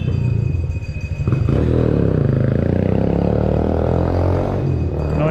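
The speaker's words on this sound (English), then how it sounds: "Noisy motorbikes." Motorbikes roar past on a Mexico City street, a loud, close engine rumble with clattering, building in intensity and holding steady as they go by, with no voices over it.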